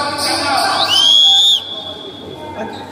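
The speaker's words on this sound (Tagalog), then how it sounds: "May dala ka bang pito?" A referee's whistle at a basketball game gives one long shrill blast that bends upward and then holds steady, loud and close, over a low murmur of the crowd in the gym.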